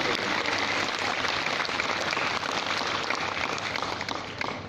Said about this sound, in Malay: adik-adik kita berikan tepukan yang maha gemuruh